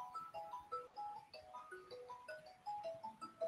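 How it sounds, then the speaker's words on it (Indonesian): A telephone rings with a melodic ringtone, a quick sequence of electronic notes repeating in phrases, fairly faint and without talk over it. "saya sambil angkat telepon ya"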